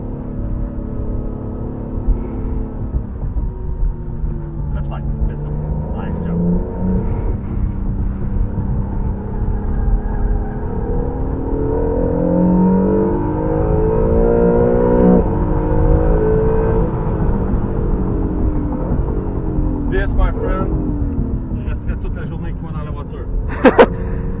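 A supercar of the McLaren type runs laps on a race track, its engine droning steadily with rising and falling pitch as it accelerates and brakes, heard from inside the cabin under near-continuous talk.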